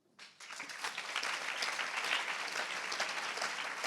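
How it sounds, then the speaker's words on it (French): Audience applause at an awards ceremony, a women-in-business readers' trophy presentation, rising quickly after a short silent gap into steady, dense clapping from a sizeable crowd that holds at full strength throughout. "Ça s'applaudit."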